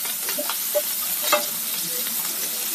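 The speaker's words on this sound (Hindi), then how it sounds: "अब इसमें हम हरा मिर्चा डाल देंगे।" Green chillies go into half a teaspoon each of cumin and mustard seeds sizzling in hot oil for a moong dal kachori filling; a continuous near sizzle carries light stirring clicks and a couple of brief scrapes.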